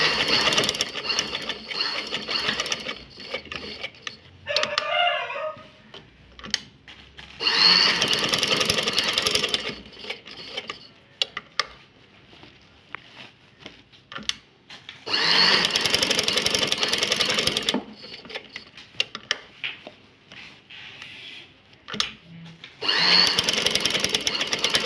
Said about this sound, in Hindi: एक साइड से हम शुरू करेंगे यहाँ से इस कोने से, और फिर हमने ऐसे सिलाई लगाना है इसको।